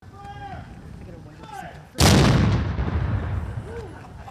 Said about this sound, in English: but the sound of a cannon